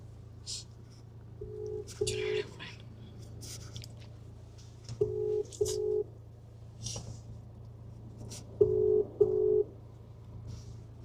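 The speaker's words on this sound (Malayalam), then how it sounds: "കോളിംഗ് ആണല്ലോ, റിംഗ് ആവണില്ലല്ലോ" An outgoing video call rings on a phone, with three pairs of short electronic tones spaced a few seconds apart over a low steady hum and faint background noise.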